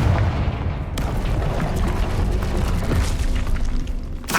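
Fire spell explosions and battle effects in the video game Hogwarts Legacy, a loud, dense wash of booming blasts and crackling impacts that runs continuously with sharp hits around the first second and near the end.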